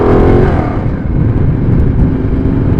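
A Ducati Diavel motorcycle fitted with a new Ohlins rear shock, its engine droning loud and close with a steady throaty rumble and slight rise in revs.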